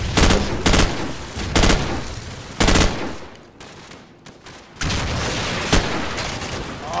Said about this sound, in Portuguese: A explosão do mapa na minha cara, na hora que eu fui matar o maluco!